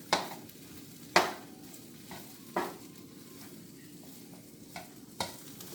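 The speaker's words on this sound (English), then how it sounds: "So I'm just going to put my pork in here." Pork tenderloin stir fry sizzling and being stirred in a pan, with soft steady frying crackle under several sharp scraping clatters of a utensil against the pan, spaced a second or so apart.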